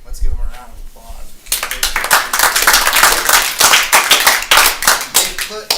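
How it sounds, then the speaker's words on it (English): A brief spoken moment gives way to a loud round of hand clapping from those attending a school board study session meeting, a crisp, steady patter sustained to the end of the clip. "Let's give them a round of applause."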